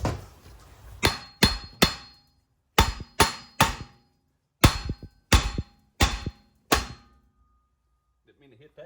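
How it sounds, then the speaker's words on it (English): Eleven sharp, ringing hammer blows in rough groups of three, knocking loose a seized wheel bearing on a 2009 Subaru Forester with about 162,000 miles. The strikes are loud and close, with brief silences between. "We're just going to take the hammer and try to knock this loose."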